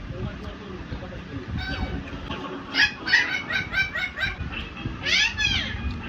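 A dog barks in a quick burst of sharp yaps, with laughter and chatter in the background.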